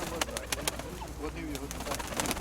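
Pigeons coo in repeated soft bursts at a busy livestock fair in Pavlohrad, close by, while people talk and bargain over them throughout.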